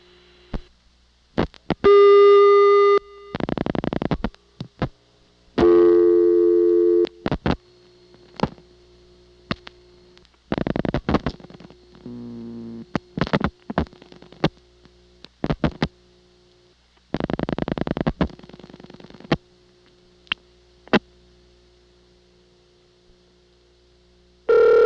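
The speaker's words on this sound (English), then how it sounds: "What I did next was to try dialing 510 into the toll trunk." A telephone call dialed as 510 into a Siemens motor switch toll trunk from May 1982 plays out as bursts of clicks, short tones and intermittent signal beeps separated by silent gaps, loud and close on the line.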